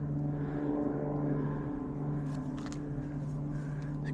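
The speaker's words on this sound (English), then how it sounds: "You can hear stuff flying down there, the float planes." Float planes flying far below a mountain hiking trail in Alaska, heard from above the clouds as a steady, continuous propeller-engine drone with no voices over it.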